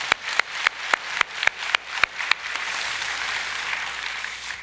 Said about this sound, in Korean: 우리 박수로 한번 응원 한번 하겠습니다.